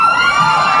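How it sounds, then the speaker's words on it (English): A concert audience at a Blue October show in Des Moines/Waukee, Iowa, cheering loudly, with a shrill whistle riding over the sustained crowd roar. "You don't have to cheer after everything I said."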